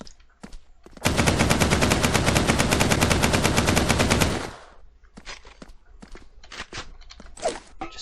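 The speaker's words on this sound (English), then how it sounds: "smaller version of the AK-47. It shoots a bit faster, but the damage isn't quite as good" A smaller, faster-firing AK-47 variant in the blocky shooter Blockstorm lets off one loud, continuous automatic burst lasting about three seconds. Scattered clicks and light footstep-like taps follow.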